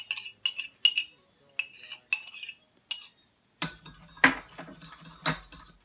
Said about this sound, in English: I probably should use a fork to whisk and not a spoon